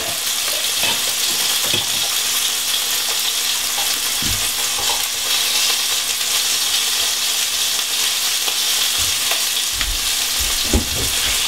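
Pacific herring frying in a pan, a loud, dense, continuous sizzle close by with occasional soft knocks and bumps, and no talking.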